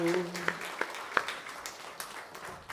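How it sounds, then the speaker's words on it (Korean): Faint, scattered clapping from a church congregation during a Sunday service, a few distinct claps standing out from a soft background. "하나님 앞에 영광의 박수"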